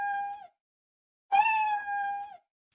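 A cat meows twice in a cartoon scene, a short call followed by a longer drawn-out one after a pause, close and clear with no other sound around it.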